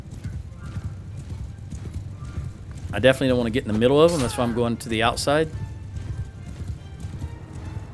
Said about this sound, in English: Now see, once my horse gets running